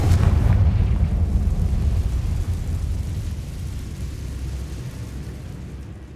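A Confringo blasting spell explodes in the Hogwarts Legacy video game: a loud, deep boom right at the start that rolls into a long rumbling decay, fading gradually over several seconds with no voices.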